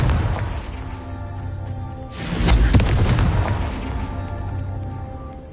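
A Confringo fire spell explodes in the Hogwarts Legacy video game, a sudden loud booming burst that rolls and rumbles for about a second before fading back into a low ambient bed.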